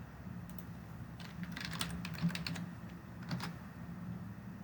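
Typing on a computer keyboard while renaming toolpaths in CAM software: quick bursts of light key clicks and taps, close and fairly quiet, over a steady low room hum.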